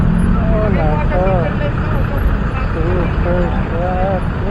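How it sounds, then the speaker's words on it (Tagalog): Heavy road traffic during an election-season rally or concert, a loud, constant rumble of vehicle engines close by, with people talking over it throughout. "Super traffic."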